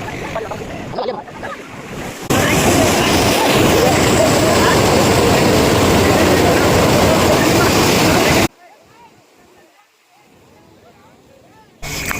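Loud, steady rush of the small Penna River flowing fills the middle of the clip, a dense roar close by, then cuts off to a much quieter background with faint wind.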